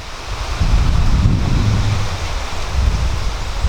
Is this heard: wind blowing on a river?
yes